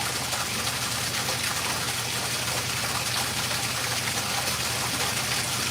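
Water gushes steadily into a container while a deer hide is prepped for tanning, a loud continuous rushing fill with no break.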